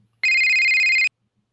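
A telephone gives a single electronic ring lasting just under a second. It is loud, shrill and steady, with near silence before and after.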